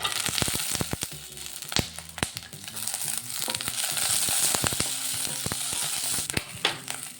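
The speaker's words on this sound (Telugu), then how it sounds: "పచ్చిమిర్చి వేసుకుందామండి." Green chillies added to peanuts frying in oil for a chutney, a continuous loud sizzle broken by sharp crackles and pops scattered throughout, close up.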